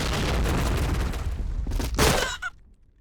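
A bomb explodes in the online shooter game Point Blank, a loud, dense blast roar with a couple of crackling bursts near the end, then a quick fade to near silence.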